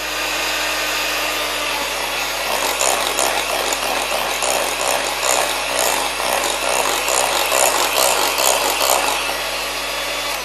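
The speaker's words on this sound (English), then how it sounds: "Keep on adding the egg yolks one by one, and then keep on beating it until you finish all the 5 egg yolks." An electric mixer beats egg yolks, added one at a time, into creamed cake batter for a cherry and almond cake. It gives a steady loud whirring drone with a rhythmic scraping pulse that grows busier after a few seconds, and no one speaks.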